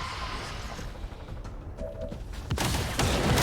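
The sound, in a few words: gunshot fired at the queen in a video game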